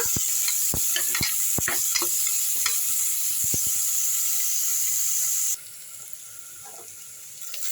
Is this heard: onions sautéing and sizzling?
yes